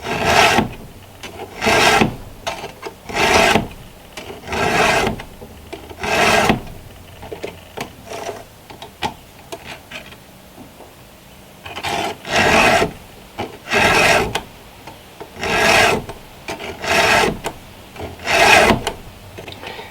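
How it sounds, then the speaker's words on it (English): A hand file sharpens a chainsaw chain in steady rasping strokes, about a dozen close forward passes with short pauses between them and no talking. "when I'm filing forward, is not to drag my file backward, because then it messes up my cut"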